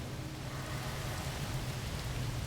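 Acid rain falls on a planet in No Man's Sky as a steady, dense hiss of rain with a low rumbling undertone, constant and enveloping throughout, with no voices.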